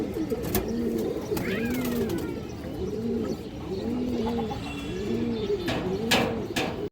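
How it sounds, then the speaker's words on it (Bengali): Male khora gola pigeons, a large full-down-shaped breed, coo in a steady repeating rhythm of rolling calls, close and clear, with a few faint chirps and no talking. "খরা গলা নর কবুতর আছে, এটাও বড় সাইজের কবুতর দর্শক"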